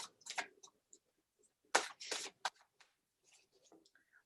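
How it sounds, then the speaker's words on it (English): A Wild Unknown Tarot deck by Kim Krans being shuffled, heard as scattered soft card riffles and taps in short bursts separated by near-silent gaps, quiet and close. "So I'm just going to begin by shuffling."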